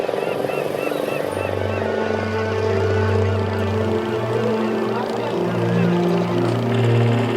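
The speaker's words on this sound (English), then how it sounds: "While the noise from the diesel engines is horrendous, the sharp propellers pose a serious danger." Diesel engines of tourist motorboats on Chilika lake drone loudly and continuously, several overlapping engine hums shifting in pitch as the boats move close by, with faint voices beneath.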